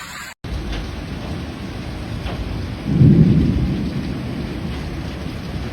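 A thunderstorm in Brisbane, Queensland, with heavy rain and hail gives a dense, steady hiss of pouring rain close by, and a deep thunder rumble swells loudly midway before easing back under the downpour.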